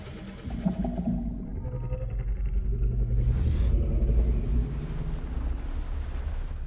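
Apatosaurus sauropod in the game Path of Titans gives a long, deep, rumbling gurgle call that rolls on steadily for several seconds, low and loud with no talking over it.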